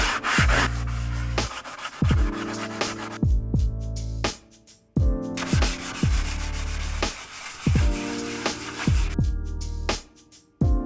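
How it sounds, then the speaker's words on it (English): Sanding white primer paint off the metal of a school bus: rhythmic back-and-forth rasping strokes in loud bursts with brief pauses, close and unaccompanied by talk. "So I'm gonna sand all this down and we're gonna paint it a nice rich black"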